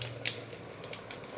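Mustard seeds spluttering in hot oil, making a few quiet, sharp clicking pops over a faint low background during a brief moment.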